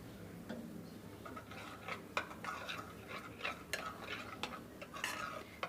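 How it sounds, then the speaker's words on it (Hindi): Vegetable pizza topping being stirred and mixed in a bowl with chat masala and black pepper, giving soft scraping and clinking of a spoon against the dish, steady and close, with no talking. "इसको हम इसमें शामिल कर दें और इसको हम अच्छे से जो मिक्स कर लें।"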